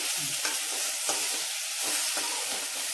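Tomatoes sauté for a mint and tomato chutney, a dense continuous sizzle with light stirring scrapes, steady and close with no talk.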